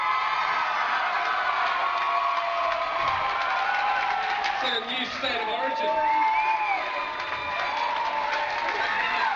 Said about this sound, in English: Big round of applause for all the girls.